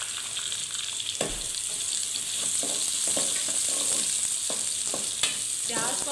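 Onions frying in a pan for daal kadu, a dense continuous sizzle close up, with occasional stirring scrapes and clicks cutting through.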